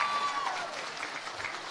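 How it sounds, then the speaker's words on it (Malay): A crowd at the Perikatan Nasional manifesto launch claps steadily for under two seconds, a dense, moderately loud burst of applause that gradually thins out. "Tepuk tangan."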